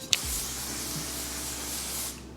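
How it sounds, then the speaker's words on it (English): One Size setting spray hisses in one continuous close burst lasting about two seconds, starting with a sharp click of the nozzle. "One Size setting spray."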